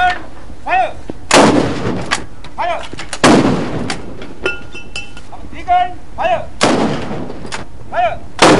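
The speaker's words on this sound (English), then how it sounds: "The Navy carries out this artillery gun salute every year since 1948." Navy artillery gun salute fired for Independence Day in Sri Lanka, a series of loud booming blasts spaced a second or two apart, each followed by rumbling decay, with voices talking in between.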